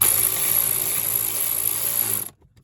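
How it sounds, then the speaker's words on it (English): A power tool whirs with a high, steady motor whine for about two seconds, close up, then cuts off abruptly into silence, while replacing a blower resistor on a 2003 Chevy Silverado. "Power tools."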